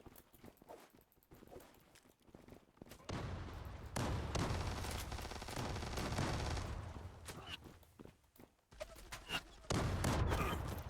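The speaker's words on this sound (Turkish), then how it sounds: "Lan bombaya bak yukarıda patlıyor beni sallıyor ya" Bomb blasts rumbling overhead in a Favela map of an online shooter game, a loud, dense stretch of booming and crackling gunfire that swells and fades several times, with sparse talk in the quieter gaps.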